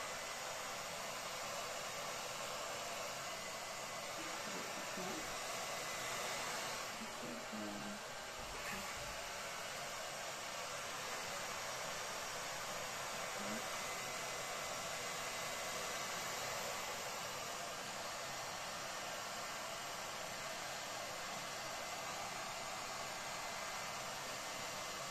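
A hair dryer or heat gun blows steadily on acrylic pour paint in a flip cup painting, a constant close whooshing hiss that runs the whole time with no talk.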